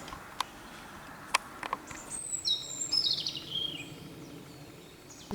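Small birds sing outdoors in quiet countryside, a few faint, sharp chirps and then a brief high trilling phrase, distant and soft against a low background hush.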